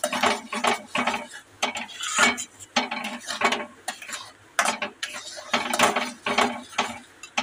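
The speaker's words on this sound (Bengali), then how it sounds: "নুনটা ভালো করে মিশিয়ে নিচ্ছি" A spoon stirs half a spoonful of salt into a thickened sugar syrup in a pan, giving a close, steady run of scraping and clinking strokes in quick rhythm.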